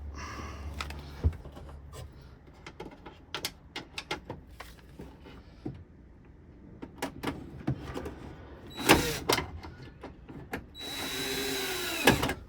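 Power drill driving small screws into a caravan charger unit, a series of short sharp whirring bursts and clicks spaced irregularly, ending in a longer sustained run of the motor; close and fairly loud, no talking.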